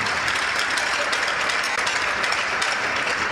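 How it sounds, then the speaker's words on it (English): A large crowd at a Georgia Tech vs. Florida State college hockey game applauds military veterans steadily, a dense, loud wash of clapping that holds even throughout without pause. "let's have a big round of applause for all our military veterans"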